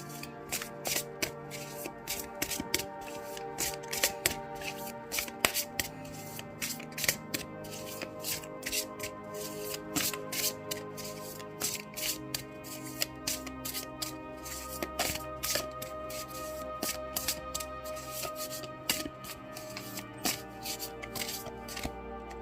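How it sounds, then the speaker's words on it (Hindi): Tarot cards being shuffled for a card reading, a steady stream of crisp riffling and slapping card sounds at close range with no talking. "थोड़े और कार्ड्स मैं आपके लिए निकालूंगी।"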